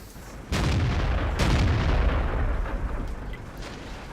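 Two heavy tank gun blasts in the video game World of Tanks, about a second apart, each a loud booming crack followed by a rumbling tail.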